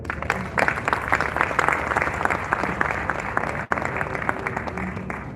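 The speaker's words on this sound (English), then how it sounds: "kindly give a round of applause to the Women's Forum" An audience at a workplace harassment forum gives a loud, sustained round of applause, dense close clapping that continues steadily throughout with only a momentary break.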